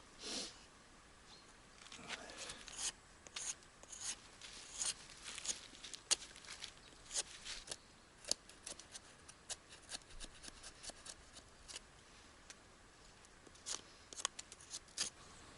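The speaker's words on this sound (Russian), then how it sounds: "Сейчас ножом удалю кору, сучки, и будет вот такая дизайнерская ручка." A knife strips bark and knots from a crooked wooden branch being shaped into a door handle, giving quiet, intermittent scraping and rasping strokes close by, with brief pauses between cuts.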